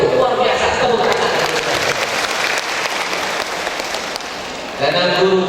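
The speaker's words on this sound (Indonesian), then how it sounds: "Tepuk tangan." Applause from a teacher association audience at a Halal Bi Halal gathering, a steady loud clatter of many hands filling the hall for about five seconds before easing and briefly swelling again near the end.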